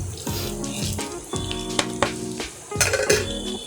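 Spice masala fries in a pan for shahi egg biryani, giving a steady close sizzle broken by three bursts of stirring, scraping and clinking from a utensil against the pan.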